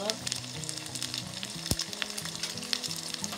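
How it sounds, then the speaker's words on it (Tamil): Onions sautéing in a pan for a Sri Lankan chicken curry, a dense crackling sizzle with occasional stirring, close and steady throughout, no talking. "கொஞ்சம் கொஞ்சம் வதங்கட்டும்"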